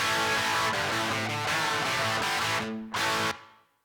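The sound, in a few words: electric guitar classic rock crunch tone without impulse response cabinet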